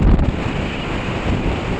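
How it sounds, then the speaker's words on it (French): Strong wind buffets the microphone on a mountain summit in Scotland, a loud, continuous roar with gusty swells and no other sounds. "je pense qu'il y a beaucoup de vent, mais je suis arrivé au sommet"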